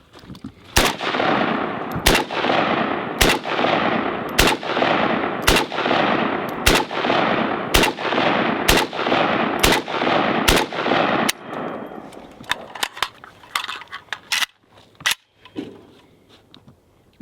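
A Century Arms C39 V2 AK-pattern rifle fires 7.62x39 rounds at steel targets outdoors, ten loud evenly spaced sharp shots with ringing decay, followed by scattered fainter impacts and clicks.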